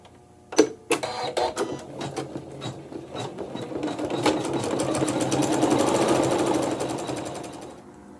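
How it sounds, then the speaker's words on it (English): An embroidery machine stitches a design in thread C, starting with a few sharp clicks and thumps before settling into a fast, even mechanical stitching rhythm that swells and then eases off; no talking. "For step 10, we're putting thread C in the needle only, and we're stitching the embroidery."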